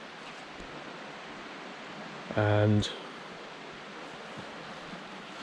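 A river runs beside a woodland waterfall trail, a steady soft broadband rush of flowing water throughout, with a brief louder tonal burst midway and a single spoken word.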